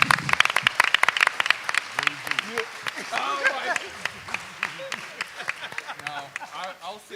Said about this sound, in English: you can give me a big round of applause, we're out of here